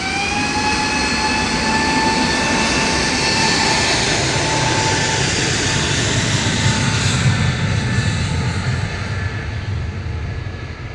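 An Airbus A321neo airliner at Manchester Airport roars past, a loud sustained jet engine rumble with whining tones that slowly fades toward the end.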